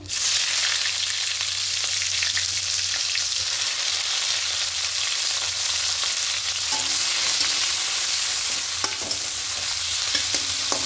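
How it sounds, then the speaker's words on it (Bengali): Chopped onion frying in oil with panch phoron, dried red chillies and bay leaf: a dense, loud, continuous sizzle close by, with a few faint utensil taps near the end. "এবার এখানে একটা বড় সাইজের পেঁয়াজ কুচি দিয়ে দেবো।"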